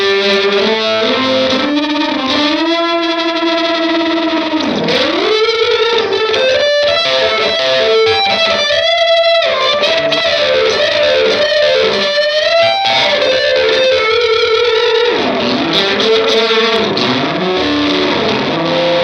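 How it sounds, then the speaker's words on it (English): An electric guitar played through a thick fuzz distortion plays sustained, saturated notes and bends continuously for the whole stretch, with no talking. "So with the Fuzz it's a little bit more of a smoother distortion."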